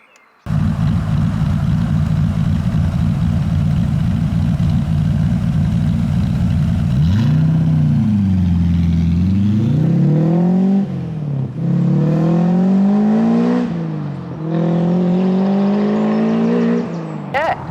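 A Westfield Seight with a 3.9 litre V8 rumbles loudly at a steady low pitch, then pulls away and climbs through several rising revs with gear changes, heard close from inside the car.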